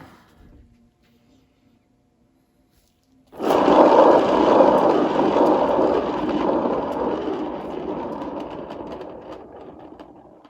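A spinner whirls a canvas with an acrylic paint pour on it. After a few quiet seconds a steady motor whir and rush of air start abruptly and stay loud and even, fading slightly toward the end.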